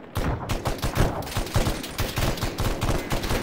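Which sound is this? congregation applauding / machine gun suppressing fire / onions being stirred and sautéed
machine gun suppressing fire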